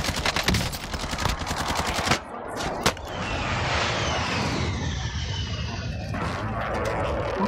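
Rapid automatic gunfire from enemy squads in a video game, loud and close at first with dense bursts of shots, then giving way to a steady rushing roar broken by a couple of sharp cracks.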